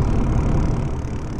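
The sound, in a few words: Mercedes Benz Citaro bus engine in Proton Bus Simulator video game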